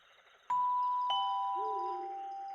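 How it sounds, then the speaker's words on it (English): A two-tone doorbell ding-dong in an animated pizza-restaurant scene, two clear chimes half a second apart ringing out and sustaining, followed by a faint low tone underneath. "Why do we have a doorbell?"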